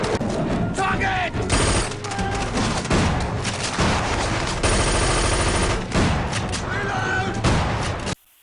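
Sustained bursts of automatic gunfire fill a battle scene in a werewolf movie, loud and dense throughout with shouted voices mixed in among the rapid shots.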